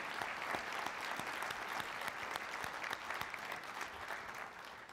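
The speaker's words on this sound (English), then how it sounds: "let's give them a round of applause then" Sustained round of applause from an audience at a university president's State of the University address, dense steady clapping that holds for the full length and tapers slightly at the end.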